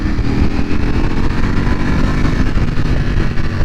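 A brand-new 2020 Ducati Panigale V4 R on fresh tires, ridden on the road, gives a loud, steady engine drone with wind rush. The roar holds constant and close throughout, and no one speaks.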